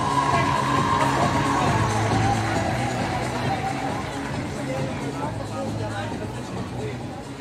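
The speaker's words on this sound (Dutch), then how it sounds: "Dames en heren, uw applaus voor Tessa Vermeulen en Indy Jongman." A swimming meet audience cheers and applauds the winners of a women's 200 m backstroke final at the Swim Cup Den Haag; a dense, steady crowd roar with shouts and chatter fades slightly over several seconds.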